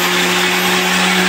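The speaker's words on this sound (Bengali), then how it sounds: "দেখা যাক মেশিনে কেমন কাটে।" A cutting machine runs steadily while cutting apart a four-tier pigeon cage, giving a loud, continuous whirring whine with a strong steady hum and no voices.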